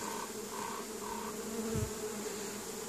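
Honey bees hum steadily at an open hive in a bee yard being prepared for spring blossom, a soft, continuous close-up buzz with a few brief rising tones over a low background drone.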